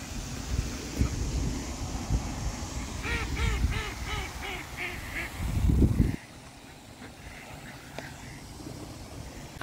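A run of rapid quacks and honks from several ducks rises over wind and outdoor rumble, then fades to a couple of distant calls.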